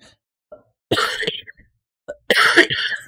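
Two harsh, close coughs from someone who has been coughing for 16 days, separated by a short pause, with faint breaths between them in an otherwise quiet room.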